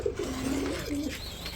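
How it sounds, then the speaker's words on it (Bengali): Pigeons at a pigeon sale give several low, throaty coos in close succession, near and clear over a faint steady background hum, with no talking. "আজকে 2 জোড়া কবুতর দেখাবো"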